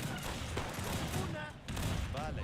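Booming cannon and gunfire volleys in an Age of Empires 3 battle, dense and continuous with a brief dip midway, mixed with game voice chatter.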